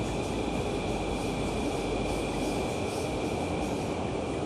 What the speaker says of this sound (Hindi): वापस ट्रेन आ रही